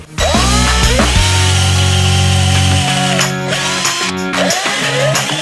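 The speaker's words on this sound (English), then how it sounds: "I'm drilling a hole in the dust cover with a 1-inch spade bit" A power drill with a 1-inch spade bit whines up to speed and bores through a plastic dust cover on a 5th-generation Toyota 4Runner, its pitch wavering and dipping as the bit bites, loud and close.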